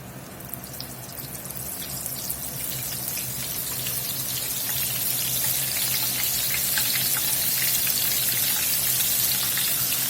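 Steady, dense sizzling of shrimp frying in oil near 400 degrees, a continuous crackle that builds slightly louder and holds, with no voices.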